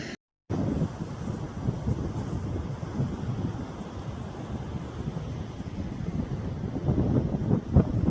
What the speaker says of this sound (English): Sod's law, I get the video camera out and wind again